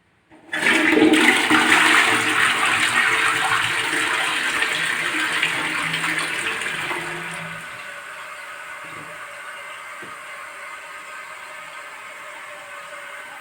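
A toilet bowl flushes in a house under renovation, a loud rushing gush that starts abruptly and then settles into a steady, quieter refill hiss for several seconds, close by with no talking.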